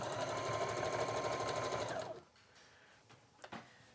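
A sewing machine runs steadily for about two seconds, stitching stretched elastic onto the inside of a boatneck top, then stops, leaving a few faint handling clicks.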